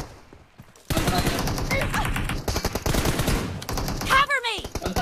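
Rapid bursts of automatic gunfire crackle through a multiplayer shooter match in Free Fire, dense and close, with a few sharper cracks near the end and players talking faintly underneath.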